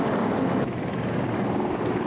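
A Super Puma military helicopter at a Hellenic Air Force live-fire demonstration, a loud continuous rotor and turbine roar with wind buffeting, steady throughout with no talk.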